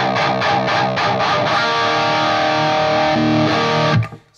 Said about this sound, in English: So it sounds like an amp coming out of a little transistor radio.